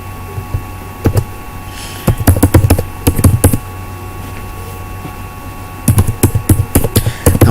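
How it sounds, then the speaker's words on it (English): An email address is typed on a computer keyboard in several close, loud bursts of rapid key clicks, with short pauses between them over a steady background hum. "So I'm just going to type in the email that I plan using"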